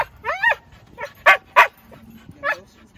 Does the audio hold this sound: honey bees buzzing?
no